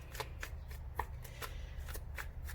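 Tarot cards being shuffled by hand at close range, a quick series of crisp riffling bursts repeating every half second or so, with no voices.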